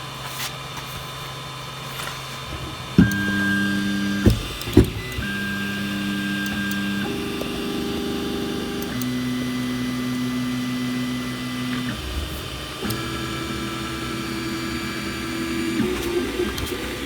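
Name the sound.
Ender-3 3D printer printing a test print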